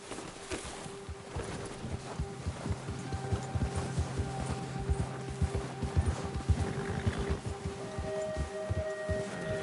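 Steady clip-clop of horse hooves at a walking pace, fairly close, over a low ambient bed with faint tonal hums, in the video game Red Dead Redemption 2.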